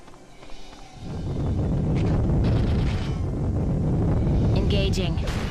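Grenade blasts in the tactical war game Valkyria Chronicles 2 swell into a dense, sustained rumble of explosions and debris that builds after a quieter opening and stays loud throughout.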